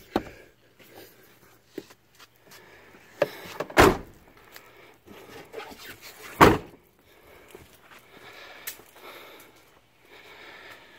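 The door of a 1997 Ford F150 pickup shuts twice with loud, sharp thuds a few seconds apart, amid quieter clicks and handling noises around the cab.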